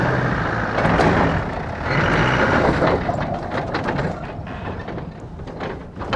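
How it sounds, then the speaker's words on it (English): An off-road 4x4 with open differentials labours in second gear, low range, with rough, loud, close engine rumble that gradually weakens as the engine stalls. "And I stalled it."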